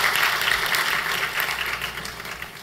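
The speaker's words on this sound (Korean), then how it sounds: "우리 박수 한번 쳐주세요." A church congregation at a Sunday service claps together in a dense, even round of applause that holds steady, then eases slightly toward the end.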